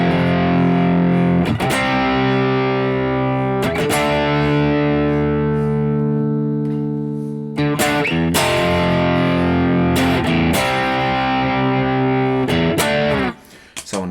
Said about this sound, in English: there's a distorted guitar part that goes